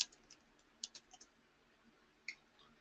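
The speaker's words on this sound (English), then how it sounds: "So I'm going to type in Rolex watch here." Light keyboard typing, a few sparse, quiet key clicks spread irregularly over a few seconds in a quiet room.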